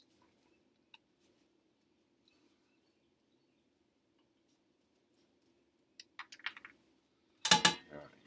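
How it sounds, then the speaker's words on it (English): Scissors or a blade cut a small notch into cardboard in a quiet room: a few faint ticks, then one short, crisp, close cutting burst. "And now I'll cut this small notch here."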